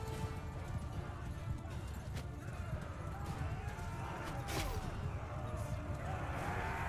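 Horses of mounted archers gallop in Bannerlord, a dense, continuous drumming of hooves under battle noise, with a brief whinny and a sharp crash near the middle.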